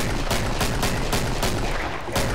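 A chain gun firing in Killing Floor lets out a loud, unbroken stream of rapid, evenly pulsing shots that runs steadily from start to finish.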